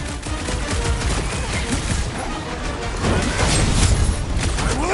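Rapid, dense gunfire and crashing impacts from a sci-fi action video game featuring Drax, loud and continuous throughout, building slightly toward the end with booming hits.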